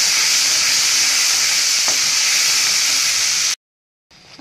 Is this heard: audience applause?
no